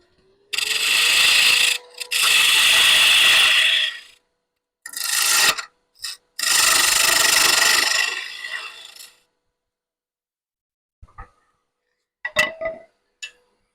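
A sacrificial wooden tenon is cut away from a turned three-piece finial in a series of rasping, scraping bursts of varying length, loud and close, followed by a few faint clinks and short scrapes after a pause.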